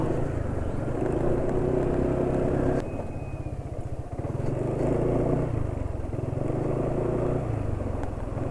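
A motorcycle engine idles steadily close by, its revs dipping partway through and then settling back to an even, low rumble, with no talk over it.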